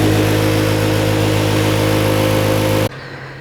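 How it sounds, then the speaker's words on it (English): A laboratory hammer mill runs at very high speed with a loud, steady mechanical drone and hum that stays constant, then cuts off abruptly near the end. No one speaks over it. "it goes entire into the hammer mill chamber, and it is going to rotate at very high speeds"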